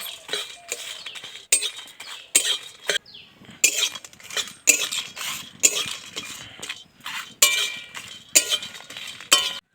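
Dry chillies, cardamom and cloves are stirred and roasted in a kadai, giving a close, rhythmic run of dry scraping and clinking strokes separated by short gaps, with no voices.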